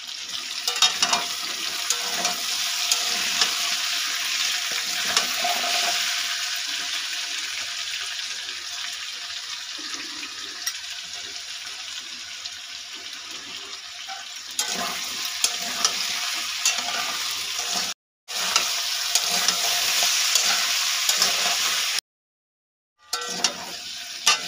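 Potato pieces lightly frying for a white potato curry, a steady close sizzle with occasional stirring scrapes, running alone and broken by two brief silent gaps.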